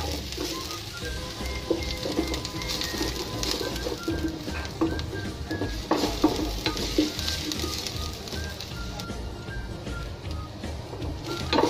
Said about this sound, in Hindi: अच्छे से इसे चलाते हुए हल्का फ्राई कर लें.